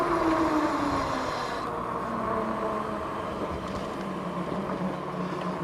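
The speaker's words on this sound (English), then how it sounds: "There is some tire noise." Tires of a DYU KING750 electric bike give off a steady rushing road roar while riding, loud and continuous, with a low whine that fades out early.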